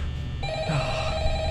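An old-style telephone starts ringing in Five Nights at Freddy's, a bright sustained electric ring cutting in partway through over a low humming ambience, close and fairly loud.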